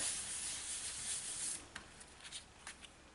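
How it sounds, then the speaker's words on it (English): Paper card stock is rubbed by hand, a faint, close, steady papery scuffing that breaks into a few short, separate strokes in the last half. "I like to turn it over and just give it a rub"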